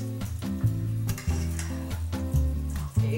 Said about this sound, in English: Use your fork to mash it up.